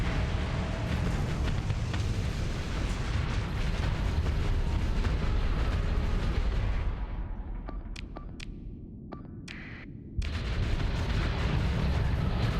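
Space battle in the game Starsector with Star Wars factions: dense, continuous roar of explosions and weapons fire, a sudden drop to near-quiet with a few sharp pops, then the loud barrage resumes.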